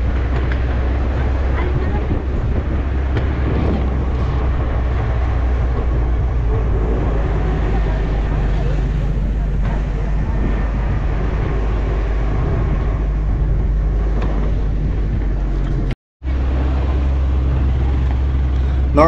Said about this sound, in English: 4x4 vehicle in off-road